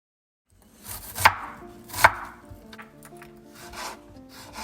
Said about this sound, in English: We're gonna make our beautiful kind of salsa chimchurri for our salmon with all these cute vegetables. So we're just gonna cut them all up